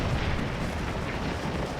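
Continuous rumbling barrage of artillery fire across a Civil War battlefield in Scourge of War: Gettysburg, dense booms blending into a steady low roar with no clear gaps.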